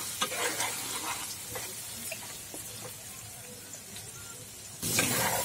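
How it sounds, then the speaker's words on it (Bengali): Potatoes and chickpeas fry with salt in a pan, an even low sizzle with light stirring scrapes, swelling louder near the end, no talking. "এবার ভালো করে আমি নুন আর ছোলা আলুর সাথে 3 থেকে 4 মিনিট আমি ভেজে নেব।"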